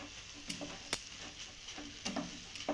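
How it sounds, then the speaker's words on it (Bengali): Semolina halwa is stirred continuously in a pan as it dries out, with soft scraping and periodic clicks of a spoon against the pan over a faint, quiet sizzle. "এইভাবে অনবরত নেড়ে চেড়ে সুজির হালুয়াটাকে আমি ড্রাই করে আনবো"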